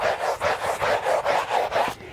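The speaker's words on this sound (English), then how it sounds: "I come in with my scrub brush." A scrub brush works back and forth across a car carpet floor mat in quick, even strokes, about eight rhythmic bristly rasps, close and alone.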